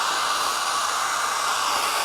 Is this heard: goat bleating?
no